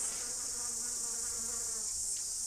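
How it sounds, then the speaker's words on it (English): A fly buzzing close to a camera outdoors in a New Zealand street, a steady droning hum with wavering pitch, loud and near, running alone without talk. "That fly better fuck off."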